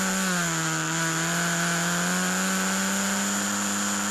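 A Formula Ford racing car accelerating out of Luffield at Silverstone: a loud, close, steady high-pitched engine drone with tones rising slightly as it pulls away, no voices.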